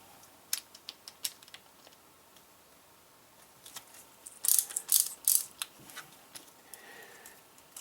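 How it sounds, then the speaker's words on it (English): A screwdriver works loose the screws on an M1895 Nagant revolver, making faint, close metallic clicks and scraping ratchet-like bursts that cluster more densely midway through. "I'm just using the screwdriver to break those free"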